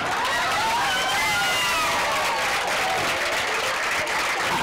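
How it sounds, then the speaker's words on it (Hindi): An audience stands and applauds for Sanjay bhai, a loud, continuous wash of clapping with scattered cheers and no speech over it. "सब एक बार खड़े होकर संजय भाई के लिए ताली बजा दीजिए"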